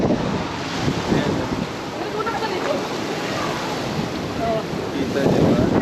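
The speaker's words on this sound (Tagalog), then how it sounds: "Oh, grabe ang hangin guys. Lakas." Strong, cold wind gusting at Peoples Park in the Sky in Tagaytay, a steady roar buffeting the microphone, with bits of voice under it.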